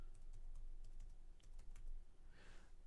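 Keys on a computer keyboard are tapped in a quick, irregular run of clicks. The typing is faint and close, heard over a low hum with no one talking.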